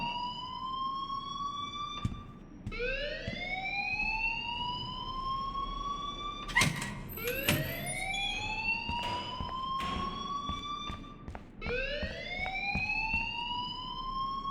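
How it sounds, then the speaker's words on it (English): School alarm in the video game Life is Strange, a loud electronic siren sweeping upward in repeated rising wails, each a few seconds long, with sharp clicks and thuds between cycles. "please turn off that alarm since that's your job."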